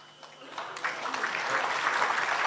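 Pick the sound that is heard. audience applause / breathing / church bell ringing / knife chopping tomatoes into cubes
audience applause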